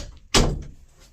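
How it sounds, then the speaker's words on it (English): A single door shut indoors, one sharp thud of the door closing that fades quickly into the quiet room. "Let me shut the doors."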